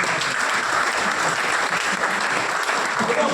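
An audience claps at a business meeting: dense, steady applause, loud and continuous throughout, with no pause or speech standing out.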